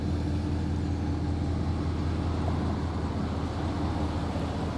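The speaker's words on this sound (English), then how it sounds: "This car is so loud, bro." A Chevrolet Camaro ZL1 with the 750HP package gives off a steady, deep engine rumble, close and constant, holding at an even level without clear rises or drops.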